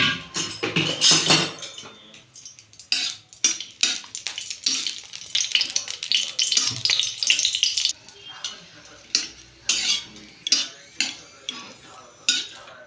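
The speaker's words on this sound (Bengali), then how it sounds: "আমি বাদামটা আর কারি পাতাটা শুকনো লঙ্কাটা ভেজে নেব" Peanuts, curry leaves and dried red chillies frying in a little white oil in a kadai, with a steady sizzle, scraping spatula strokes and metal clinks against the pan, up close, loud at first and then coming in short rhythmic bursts.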